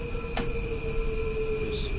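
Metro North commuter train running on the Northeast Corridor near Riverside in Train Sim World 6, a steady rumbling drone with sustained electric whine tones and a brief bright squeal early on, continuous and fairly close with no talking.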